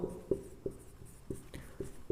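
Chalk tapping and scratching on a board during a maths lesson on relations and functions, a string of quick regular knocks about every third of a second, close and without talk.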